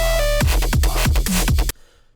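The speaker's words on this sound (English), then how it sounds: "This citrus bass, I made it in citrus." Synth bass patch made in the Citrus synthesizer, loud rhythmic wobbling bass stabs with pitch-dropping hits in a short electronic drop that cuts off abruptly near the end.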